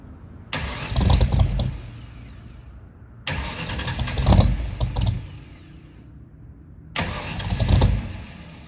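A 1964 Mercury car engine is cranked three times in succession, each loud starter whir and sputter lasting about two seconds before dying out, with quiet pauses between attempts and no talking.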